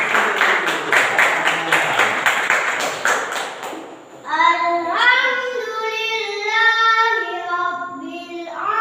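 Children in a classroom clap together in a quick burst of rhythmic applause for a few seconds, then the clapping stops and a voice begins chanting a recitation.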